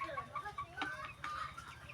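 Chickens about 62 days old cluck in a steady run of soft, close calls, several birds overlapping without any talk.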